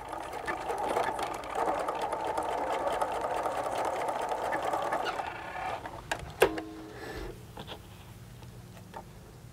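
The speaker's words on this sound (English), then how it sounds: "I'm going to sew a 3/8 seam or a fourth, either one you could do." A sewing machine runs steadily for about six seconds while stitching a 3/8 or quarter-inch seam on a zippered pencil case, then stops with a sharp click and fades to quiet handling.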